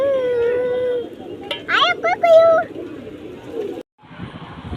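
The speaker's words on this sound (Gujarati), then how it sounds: "ઘણા બધા કબૂતર પણ છે।" Pigeons being fed chickpeas on the Chowpatty seashore at Porbandar, with brief bird calls and cooing mixed into crowd noise and a drawn-out animal howl, with people talking nearby.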